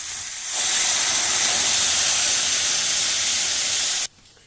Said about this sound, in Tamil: அப்புறமா புளி ஜலத்தை விடணும்.